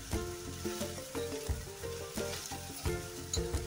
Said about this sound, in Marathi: पुन्हा व्यवस्थित परतून घेऊया